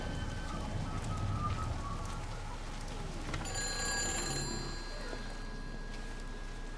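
An old payphone in Everybody's Gone to the Rapture rings with bright bell-like tones that swell for about a second in the middle, set against a steady wash of rain.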